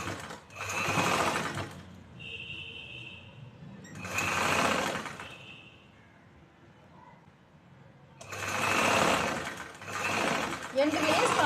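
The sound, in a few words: sewing machine stitching a choli shoulder seam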